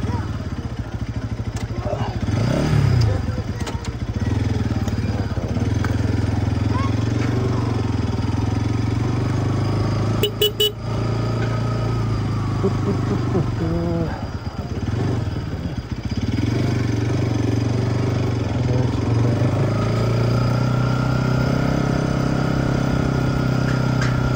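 Motorbike ridden across the old, high Kushma suspension bridge, engine running steadily and close throughout with clattering from the bridge deck, and a brief voice partway through.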